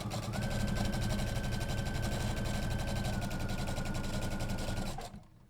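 A sewing machine stitching a tote bag runs in a continuous fast mechanical whir with rapid rhythmic needle pulses, steady and close, then stops abruptly near the end.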